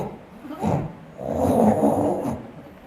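A voice imitates snoring with two rasping, drawn-out breaths, a short one followed by a longer, louder one.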